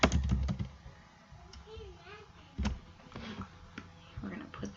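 Quick bursts of computer keyboard typing, clattering close by in short runs separated by pauses, partly under a woman's speech.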